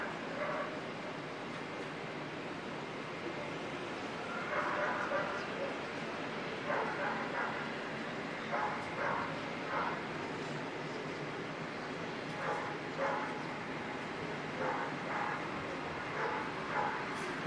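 Dogs barking and yipping at Auckland Airport during planespotting, several short bursts spread through the clip, moderately distant, under a steady outdoor hum and someone talking.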